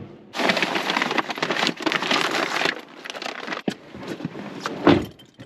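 Steady rain patters on a street at night during a food delivery run, a dense hiss of drops that swells and eases, broken by a few sharp rustles and clunks nearby.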